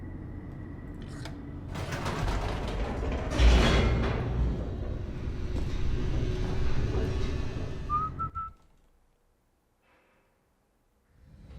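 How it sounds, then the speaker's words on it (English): Elevator descending in The Stanley Parable: a loud, steady mechanical rumble and rushing hum with a heavy jolt early on, running for several seconds before cutting abruptly to near silence. "The elevator raced downward, plummeting towards an unknown fate."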